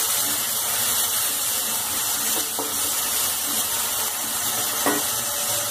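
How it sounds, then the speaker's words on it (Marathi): Onion and curry leaves sauté in a pan for a Marathi-style harbhara-leaf pithle, giving a steady, even sizzling hiss throughout with a few faint clicks of a utensil, and no voices. "कढीपत्ता, कांदा घालायचा. कांदा छानसा परतू द्यायचा."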